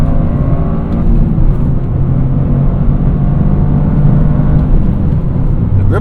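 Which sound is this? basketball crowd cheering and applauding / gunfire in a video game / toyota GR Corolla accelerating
toyota GR Corolla accelerating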